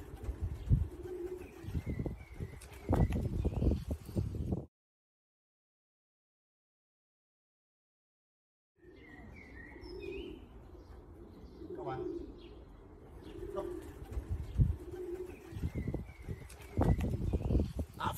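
Racing pigeons in a loft coo in soft, repeated low throaty calls amid light chirps and shuffling, fairly faint, with a silent gap in the middle and speech intermittently in the background.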